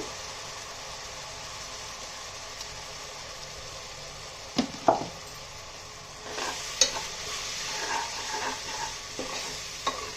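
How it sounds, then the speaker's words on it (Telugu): Ginger garlic paste with turmeric frying in a pot for Guntur-style chicken biryani, a continuous close sizzle broken by a few spoon scrapes and stirring knocks midway and later. "ఈ అల్లం వెల్లుల్లి వేస్ట్ కూడా వేగిపోయిందండి"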